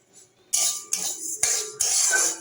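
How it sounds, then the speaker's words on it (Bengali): Lentils frying in a pan for a taro curry, heard as several bursts of bright hissing sizzle and scraping stirring, each starting abruptly, with short gaps between them. "সেই জন্য ডালটা ভেজে নিচ্ছি।"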